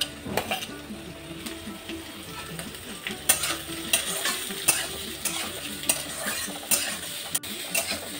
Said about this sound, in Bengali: তো আমার এই আলুর সঙ্গে সঙ্গে পেঁয়াজ রসুনটাও ভাজা হয়ে যাবে